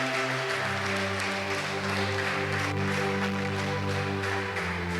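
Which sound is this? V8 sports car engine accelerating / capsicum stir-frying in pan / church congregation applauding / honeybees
church congregation applauding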